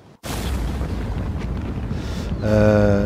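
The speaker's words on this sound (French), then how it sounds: "C'est une explosion. Une explosion à proximité du bateau qui était en train de vous suivre en fait." A deep, rumbling explosion near a boat, staged as a sound effect, bursting in after a brief silence and rolling on loudly before a swelling tonal roar takes over at the end.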